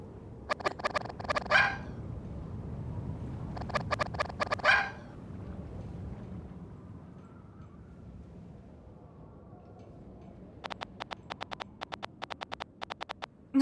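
Cartoonish dog barks from the video game Giraffe Town, sounding in two quick bursts of several yips each, then a longer run of sharp clicky barks near the end over a low murmuring game background.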